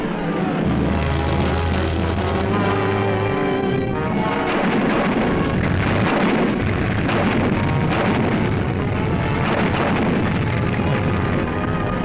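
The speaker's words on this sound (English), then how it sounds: "Canadian guns fire in support." Canadian artillery guns fire in 1945 in support of British infantry taking Arnhem, a dense run of heavy booms and rumbling blasts under constant loud noise.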